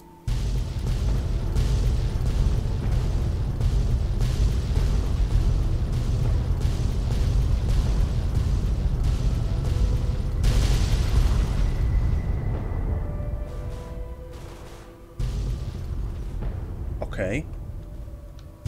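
A sustained, rumbling explosion roars through the Fallout 3 video game, loud and dense for several seconds before tailing off into fading crackles and debris, with a sharp metallic ping near the end.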